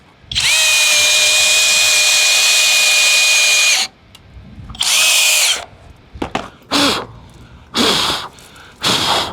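A FLEX hammer drill in turbo mode drills loudly and close for a few seconds with a steady high whine. Shorter bursts of drilling follow, separated by brief pauses.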